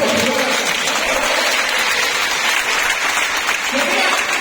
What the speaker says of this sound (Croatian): Dajte aplauz Makedovac